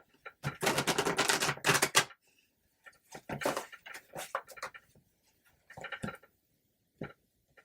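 Tarot cards being riffled and shuffled by hand, a close rapid flutter of card edges in one long burst followed by several shorter, quieter shuffles and taps.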